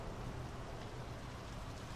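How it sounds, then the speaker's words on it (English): Steady rain falls in the video game Draugen, set by a fjord, a soft, continuous hiss of drops with no talking. "The rain's picking up."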